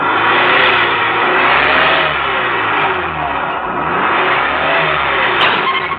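A motor vehicle engine catches after being pushed and revs hard, a loud, sustained rough roar that swells and dips slightly without pause.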